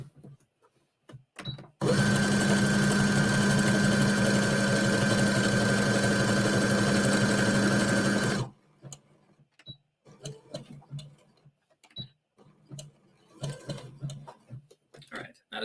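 A sewing machine runs a zigzag stitch to sew a patch onto jeans, a loud, steady mechanical whir lasting about six seconds, then stopping; quieter fabric handling and scattered small clicks follow.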